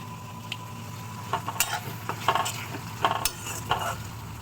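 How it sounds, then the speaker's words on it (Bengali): Onion and tomato browning in a pan with salt, heard as a soft steady sizzle broken by several louder scrapes and clinks of stirring. "পেঁয়াজ আর টমেটোটা একটু সুন্দর করে ব্রাউন করে ভেজে নেব।"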